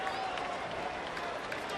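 Crowd applause fills a Detroit baseball stadium during a Chicago White Sox at Detroit Tigers game, a steady broad wash of clapping and cheering heard from a distance, with a faint tone running underneath.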